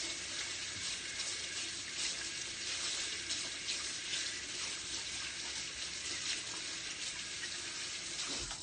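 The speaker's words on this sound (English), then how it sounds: "I'm going to have to wash my hands again before I do that." Water from a tap runs steadily for the whole stretch as sticky hands are washed beneath it while making raw peanut butter balls, with a constant close, full rush and no talking.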